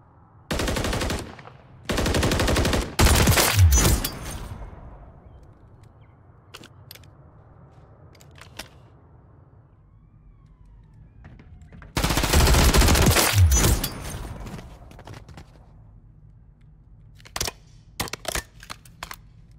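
Video game automatic weapon fitted with the Jak Atlas conversion kit firing at bots: loud sustained bursts of rapid fire, a short opening pair, a long volley midway, then scattered single shots and clicks between quieter stretches.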